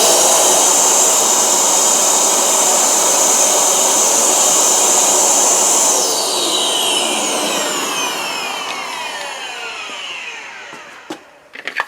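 A Dyson DC07 vacuum cleaner runs without its filter as a loud, steady motor whine that fills the first half, then winds down with falling tones toward the end, followed by a few faint clicks.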